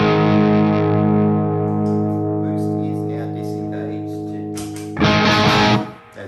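Electric guitar through a Bogner Ecstasy Classic amp with the boost engaged, a sustained distorted chord ringing out and fading, then a fresh loud strum near the end.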